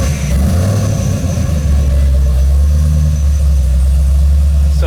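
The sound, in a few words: car engine running on alcohol fuel, warming up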